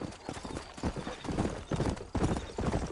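Horse hooves clip-clop steadily in the video game Red Dead Redemption, an even rhythmic trot of hollow thuds, close and clear with no talk over it.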